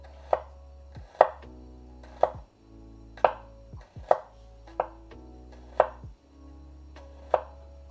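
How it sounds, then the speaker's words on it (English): A knife chops sharply through garlic and meat on a board, slicing them thin in a steady series of eight or so crisp, separate strikes, near and fairly loud with no talking. "So we got to cut our garlic really thin. We got to cut our meat really thin."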